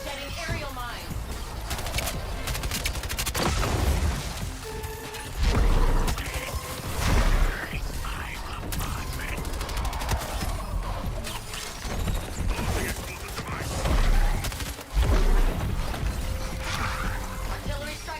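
Booming cannon blasts and heavy artillery impacts punctuate a dense, noisy video game soundscape, with mechanical clanks and whooshes throughout.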